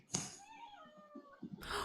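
A house cat meows once in a drawn-out, wavering cry, fairly faint and alone, with a few soft knocks after it and a burst of noise at the end.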